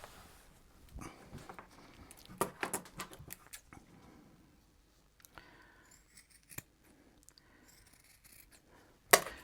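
Scissors snipping through a leather shirt pattern to cut the stand-up collar off at the neck, producing scattered close crisp snips and rubbing handling noises, quiet overall with a sharper click near the end.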